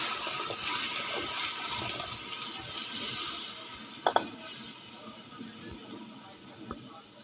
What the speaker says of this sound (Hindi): ये पानी समेत हमने इसको मसाले के अंदर डाल दिया है।